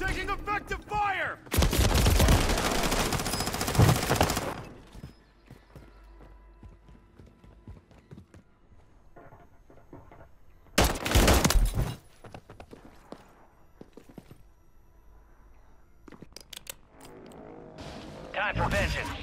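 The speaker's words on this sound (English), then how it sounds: "Taking effective fire!" Bursts of gunfire from the video game Call of Duty: Modern Warfare II in Resurgence mode, loud volleys near the start and again around the middle, with game voice lines and quieter battle noise between them.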